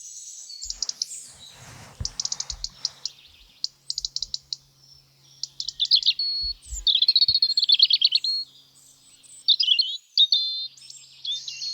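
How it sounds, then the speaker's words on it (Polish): Songbirds in a forest sing in short repeated trills and chirps, loud and close, in bursts separated by brief pauses with no voices. "ptaki potrzebują trochę czasu, żeby zaprezentować swój śpiew"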